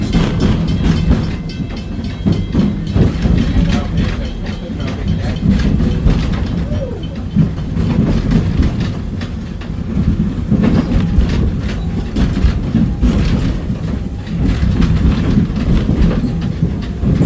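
A train to Rafiki's Planet Watch at Disney's Animal Kingdom rolls steadily along the track with a continuous rumble and rhythmic clickety-clack of wheels, loud and close throughout.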